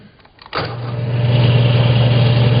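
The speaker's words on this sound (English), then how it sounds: "let's do a little drilling on this material" A power drill motor kicks in abruptly and whirs steadily, a loud, continuous hum with a grinding edge as it bites into material.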